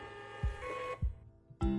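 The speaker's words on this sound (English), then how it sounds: "Simply add your content, hit the print button, and your label will print." A Dymo LabelWriter Wireless label printer runs a short print job: three soft mechanical thumps with whirring feed motion between them, close and fairly quiet.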